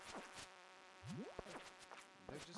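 Bees buzz around close by outdoors, quiet whining passes rising and falling in pitch as individual insects fly near and away over a few seconds.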